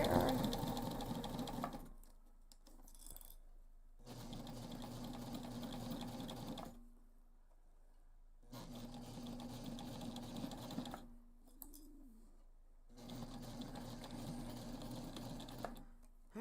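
A sewing machine stitches heavy backpack fabric in several bursts of steady running, broken by short pauses, loud and close with no talking.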